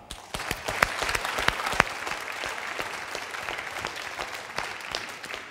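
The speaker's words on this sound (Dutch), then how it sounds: "APPLAUS" Studio audience applauding on a Dutch stage show after a ceramic tulip vase is presented: a sustained, fairly loud wash of clapping with a few sharp, close claps near the start, continuing evenly without speech.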